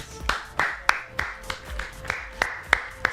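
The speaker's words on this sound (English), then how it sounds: "Round of applause." A small handful of people clap sparsely in a loose, uneven round of applause, with about ten separate sharp claps spaced out rather than a dense ovation, heard close.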